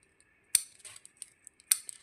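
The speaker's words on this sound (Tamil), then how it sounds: "இந்த சைடில் இருக்கிறதெல்லாம் இப்படி கட் பண்ணி விட்டுடலாம்." Scissors snip through wire in a handmade craft project, two crisp sharp cuts about a second apart with small clicks and rustles between them in an otherwise quiet space.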